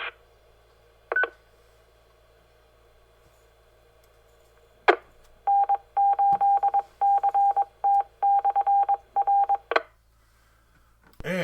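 A telephone keypad dialing during an amateur radio net, a long run of sharp evenly spaced touch-tone beeps with clicks before and after, loud and close with no talk over it.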